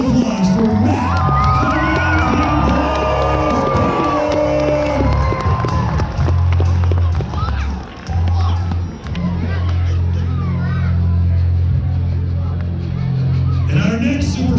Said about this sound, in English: I want a big round of applause for Matt.